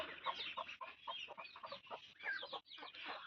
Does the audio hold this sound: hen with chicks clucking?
yes